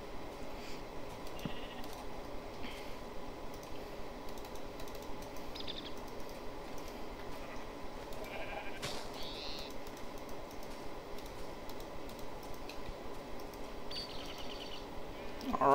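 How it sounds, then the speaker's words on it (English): Blocky sheep bleat a few times at moderate distance in the Minecraft Tekkit modpack, with keyboard clicks and quiet game ambience underneath. "We're gonna kill all these sheep and stuff"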